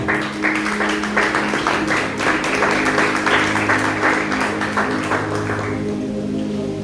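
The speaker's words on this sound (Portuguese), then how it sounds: "louvando o Senhor com a melhor salva de palmas" A church congregation claps together in steady, dense applause at a Christian worship service, loud and sustained for several seconds before it thins and fades at the end, with a low sustained organ or keyboard tone underneath.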